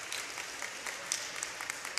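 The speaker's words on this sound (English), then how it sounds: "She'll get an applause." Applause breaks out at a girls' high school basketball game after a player lands awkwardly and walks off, a steady, moderately faint patter of clapping from the gym crowd with a few sharper claps.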